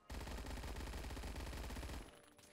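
A PPSh-41 submachine gun fires in Roblox Phantom Forces, giving one long, loud, rapid full-auto burst of about two seconds with evenly spaced, punchy shots. It then cuts off into a short fading tail.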